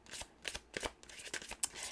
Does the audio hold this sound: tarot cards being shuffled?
yes